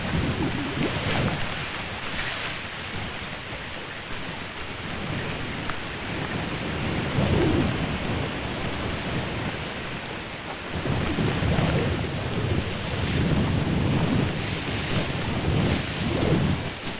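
Steady heavy rain pours down in a Béla Tarr film, with rolling thunder swelling in low, dense surges that come and go, loud and close throughout.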